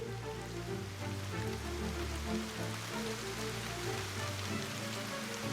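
Heavy, steady rain pours down across the surface as a sound effect in a narrated story, a dense continuous wash with no voice over it.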